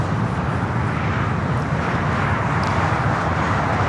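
A jet airliner, an Atlas Air aircraft at Los Angeles International Airport, produces a loud, steady broadband roar that holds without a break, with no voices heard.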